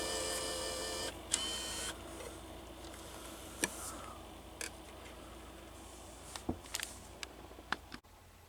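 Low mechanical whirring with a steady hum, punctuated by several sharp clicks and clunks as a disc is drawn into the slot-loading drive of a Sanyo DVD player.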